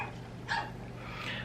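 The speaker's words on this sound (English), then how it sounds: "Those puppies are being extremely loud." A brief yip of a puppy bark rings out once from a yard over a steady low hum, faint and a little distant.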